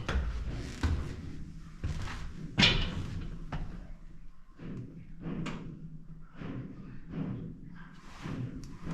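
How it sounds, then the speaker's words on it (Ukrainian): Irregular hollow knocks and thuds of water repeat inside the hull of an abandoned ship, a series of dull bangs under a low rumbling background. "Мені здається, це вода стукає."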